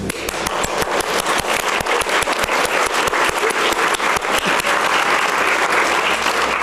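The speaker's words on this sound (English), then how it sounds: "That's time for another applause." Sustained applause from an audience at a press event for an anti-bullying initiative in Salt Lake City, dense, loud and steady clapping filling the whole stretch without pause.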